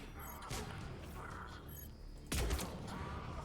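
Gunfire in Mass Effect 3 Legendary Edition: two loud, close bursts of shooting over dense game sound and a steady mechanical hum, with a voice talking faintly in the background.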